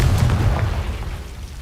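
A Confringo blasting spell explodes in the video game Hogwarts Legacy, a deep booming burst that hits loud at once and rumbles away over the next second and a half.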